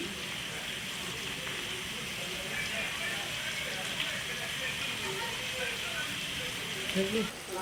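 Onion and potato sizzle steadily in hot oil with chili powder, turmeric and ginger paste, a constant soft hiss with faint stirring clicks, heard close under quiet speech.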